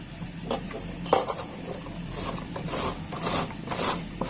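Carrots grated by hand for a Bengali carrot payesh, rasping in quick repeated strokes that land close and fairly loud, with no voices over the scraping.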